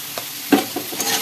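Potatoes and onions fry in a pan with turmeric, a soft steady sizzle broken by a few sharp stirring knocks and scrapes, close and fairly quiet with no talking.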